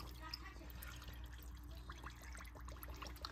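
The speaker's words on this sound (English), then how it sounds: "I'm just gonna slowly add it until the water gets up to the 1-inch space." Water trickles slowly into a canning jar packed with chicken for home canning, a faint, thin pouring and dribbling sound over low background hum, with no voices.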